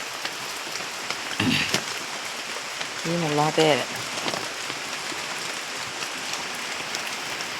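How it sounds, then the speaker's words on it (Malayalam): Light rain falls in a steady, soft hiss around a soursop tree, while a voice speaks briefly over it. "മഴയാണ് ഇവിടെ"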